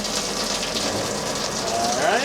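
Pink antifreeze water splashing from an RV shower faucet during winterization, a close, even hissing gush that rises slightly toward the end, with a voice speaking briefly.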